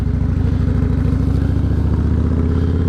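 A loud 2006 Yamaha Warrior motorcycle idles close by, its engine giving a steady, deep, rhythmic loping thump with faint clatter, continuous throughout with no talking.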